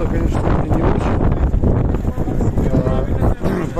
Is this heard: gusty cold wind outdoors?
yes